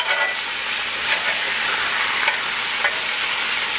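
Chicken sizzles loudly and steadily as it fries in a pan, a dense continuous crackle with a few faint clicks and no voices.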